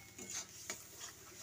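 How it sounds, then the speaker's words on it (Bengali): Spice paste being stir-fried with a splash of water in a pan for a Bengali fish, cauliflower and potato curry, giving a soft, steady sizzle with a few scraping stirs, no voices. "এখানে আমি অল্প একটু জল দিয়ে দিচ্ছি, আবারও একটু ভালো করে কষিয়ে নিচ্ছি।"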